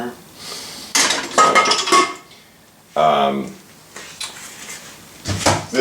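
A metal pressure cooker pot handled in a home kitchen, several loud clanks and scrapes in separate bursts with quiet gaps between, close by, with brief talk between the knocks.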